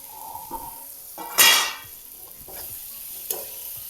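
A spoon stirs a dal and onion mixture for pendpala bhaji in a pan, giving soft scraping strokes and one loud sizzling burst, with quieter stirring scrapes after it.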